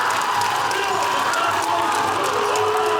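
A crowd at a robotics competition buzzes with dense overlapping chatter and scattered cheers, a loud, continuous murmur filling a large venue.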